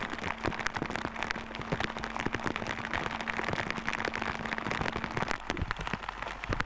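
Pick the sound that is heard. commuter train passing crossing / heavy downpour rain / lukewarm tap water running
heavy downpour rain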